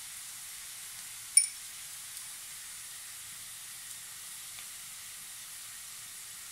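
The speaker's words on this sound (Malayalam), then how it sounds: "ഇതിലേക്ക് നമ്മൾ അരിഞ്ഞു വെച്ചിരിക്കുന്ന പച്ചമുളക് ഇട്ട് കൊടുക്കാം" Onions and green chillies frying in a pan for pepper chicken give a soft, steady sizzle throughout, with one sharp tap early on and no talking.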